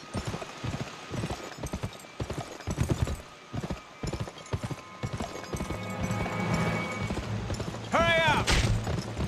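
Rhythmic hoofbeats of a horse in a video game gallop quickly and steadily, close by, with a horse whinnying loudly near the end.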